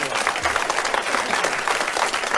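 Studio audience applause on a French radio comedy panel show, a steady wash of many hands clapping at even loudness throughout, with a voice faintly audible over it.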